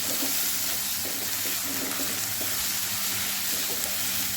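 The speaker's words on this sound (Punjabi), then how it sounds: "ਮੈਂ ਹਲਦੀ ਵੀ ਪਾਤੀ ਹੋਈ ਇਹਨੂੰ ਚੰਗੀ ਤਰ੍ਹਾਂ ਹੁਣ ਮਿਕਸ ਕਰ ਲਾਂਗੇ" Turmeric being stirred into a pan on a gas stove over a medium flame, a steady close sizzle of frying with soft scraping from the stirring, continuous and fairly loud with no talk.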